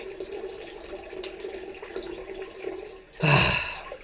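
Cold water runs from a bathroom tap during shaving: a quiet, steady trickle, then a louder splashing gush near the end.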